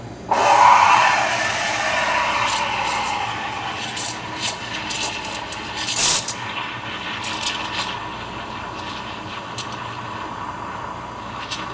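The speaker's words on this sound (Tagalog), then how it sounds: "bumababa yung ingay ng ating pag-steam" Steady hissing and gurgling of an espresso machine steam wand frothing milk, loud at first with a shrill whistle, then settling into a softer continuous hiss.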